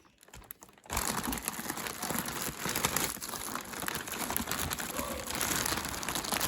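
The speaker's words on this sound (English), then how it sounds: "These are packed in one massive plastic bag, almost like a dry cleaning bag or something." Steady, loud crinkling of plastic close by, starting abruptly after a quiet moment and continuing as a dense rustling texture.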